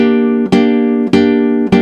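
Three long, ringing plucked-string chords on a nylon-string guitar, each sustained smoothly into the next with a soft attack, loud and close.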